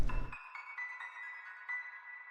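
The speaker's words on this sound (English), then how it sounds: "I pulled up just a basic piano from the wire, and I added this piano to the sample" A short piano run processed with wobble, delay, reverb and tremolo, a quick cluster of notes after which echoing, pulsing tones trail away softly, with no voices.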